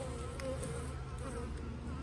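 Honey bees from a backyard survivor hive buzz in a steady, continuous drone during a strong honey flow, close and moderately faint, with no talking.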